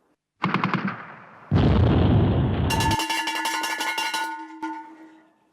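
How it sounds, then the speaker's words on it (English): A First World War gas alarm bell rings out loud and close, struck in rapid metallic clangs that build into a sustained ringing tone before fading. "That's the sound of the gas bell."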